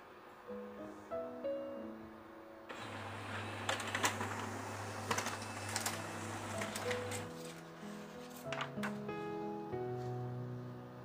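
An HP LaserJet M404 laser printer prints a demo report. A whirring motor runs under a quick series of mechanical clicks and rattles, heard up close with no speech.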